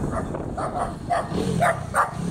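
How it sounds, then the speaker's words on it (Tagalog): Dog barking repeatedly at night on a roadside, a series of five or six sharp yipping barks at a steady rhythm, moderately close, over low background rumble. "Aso na yan."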